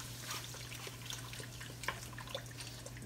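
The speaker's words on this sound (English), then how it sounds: "Put a little water in here." A thin stream of water trickles and splashes into a pot of beef stock gravy for pot roast, a soft steady pour over a low constant kitchen hum.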